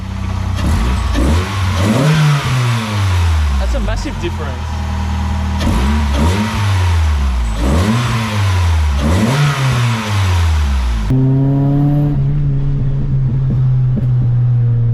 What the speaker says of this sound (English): Just hearing that induction sound, it really does make a massive difference.